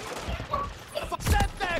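Gunfire in a Call of Duty MW3 multiplayer match: a few sharp, close shots crack in quick succession within two seconds, mixed with a voice speaking.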